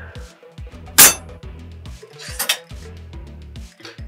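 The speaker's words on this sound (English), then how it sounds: "Give it a stir right in the glass." Ice rattles and clinks as it is stirred in a glass holding Irish whiskey over one big rock, a run of light rhythmic taps topped by a few sharper, louder clinks, close by and with no talking.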